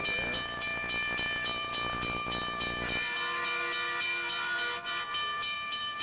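A loud train horn blares continuously, its steady tones shifting partway through, over the rumble and hiss of a passing train.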